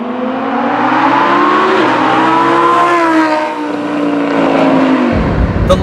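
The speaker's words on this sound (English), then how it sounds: "It's unbelievable how much the rate of acceleration doesn't change as you accelerate more." A Lamborghini Huracan engine accelerates hard, a loud, close, continuous roar climbing steadily in pitch with a brief dip at a gear change, then cutting off near the end; no talk.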